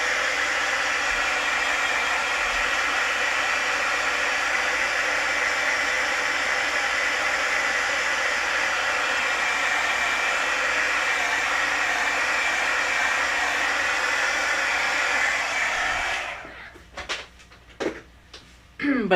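A heat tool blows steadily for about sixteen seconds, drying layers of watercolor paint in a wispy background, a loud, even whooshing hiss that then cuts off, leaving a few soft knocks and rustles.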